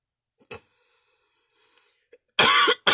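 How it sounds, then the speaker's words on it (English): Two loud, harsh coughs close to the microphone, following a few faint clicks and small noises. "I'm coughing already."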